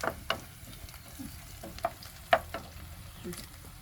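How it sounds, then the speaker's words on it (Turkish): Onions frying in a pan while breakfast is cooked, a soft sizzle under scattered clinks and scrapes of a utensil against the pan, quiet and close with a few sharper knocks. "Soğanlar azıcık kızarsın mı?"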